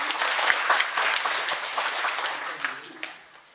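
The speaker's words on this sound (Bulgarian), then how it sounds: "Аплодисменти за него." A classroom audience at a school road-safety lesson applauds a team captain, a dense burst of clapping that rolls on steadily and then tapers off toward the end.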